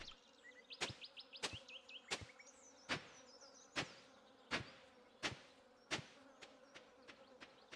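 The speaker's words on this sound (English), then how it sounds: "all those bee noises that are around here are actually kind of getting on my nerves" Bees buzzing around a farm in the video game Stardew Valley, faint insect drones heard between a regular series of sharp clicks or taps, with no talk.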